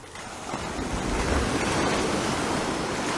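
Ocean waves at Dover Beach at daybreak, a continuous rushing surf that swells slightly louder partway through, mixed with wind buffeting the microphone, no voices.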